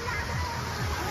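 Water pouring and sloshing at an irrigation waterfall in West Karbi Anglong, Assam, a steady wash of flowing water heard close, with faint voices mixed in.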